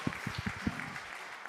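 A church congregation applauds during a group teaching session: a dense wash of clapping with a few heavier low thumps early on, fading slightly toward the end, with no talk over it.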